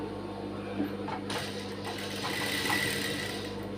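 A sewing machine stitches a prince-cut blouse with a steady, close mechanical whir. The whir grows busier and louder after about a second and keeps running evenly.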